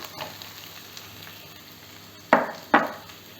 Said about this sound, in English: Let's saute this onion.